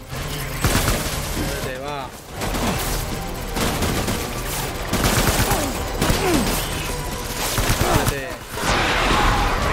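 Rapid gunfire in the Death Stranding video game, with dense bursts of shots and booms filling most of the stretch and someone speaking in between.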